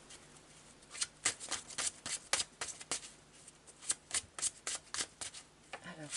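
Tarot de Marseille cards are shuffled close up, a run of quick crisp riffling snaps in irregular clusters over about six seconds, quiet, with no talk over them.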